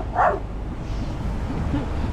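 A small dog on a bridge gives a single short bark near the start, faint and somewhat distant over a steady outdoor background hum.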